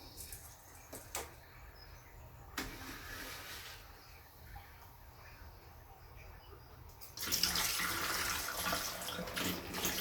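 Liquid organic fungicide and pesticide is poured through a funnel for indoor gardening, a steady faint trickle and splash that swells louder and brighter in the last few seconds, with no talk over it.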